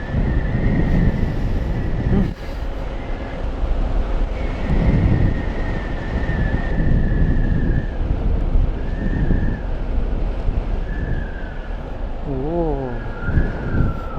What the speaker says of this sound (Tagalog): Ang ganda ng semoy ng hangin.